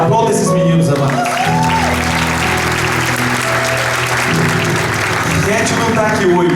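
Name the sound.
church congregation applause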